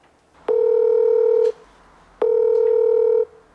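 A telephone call being placed to a lawyer's office gives two long, steady electronic tones of about a second each, separated by a short pause, loud and close against a quiet background.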